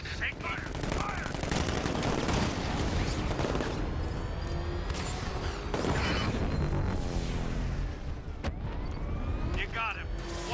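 Gunfire in the video game Batman Arkham Knight: dense, loud bursts of automatic weapon fire and crashing impacts during a road chase, with game characters' voices shouting throughout.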